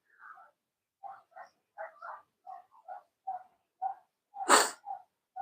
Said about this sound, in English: he's out there barking his head off